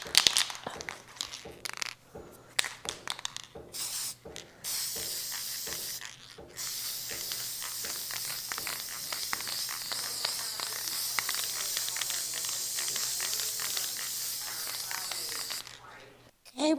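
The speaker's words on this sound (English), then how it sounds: "Now we're going to just take some of our clear spray acrylic coating, spray it over." Short bursts of clear UV-resistant acrylic coating spray hiss from a can, then a long steady spray lasting several seconds, close and fairly loud, ending abruptly.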